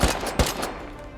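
A pump shotgun in a video game fires two loud, close blasts about half a second apart, each with a short decaying tail.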